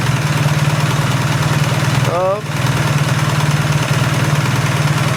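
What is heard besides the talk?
engine running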